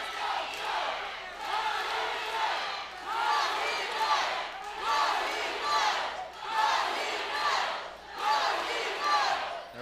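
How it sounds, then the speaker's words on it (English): A large arena crowd at an MMA fight roars and chants in rising, rhythmic surges, loud and continuous, with a commentator's voice partly beneath it. "The crowd split here at center stage. They're going crazy."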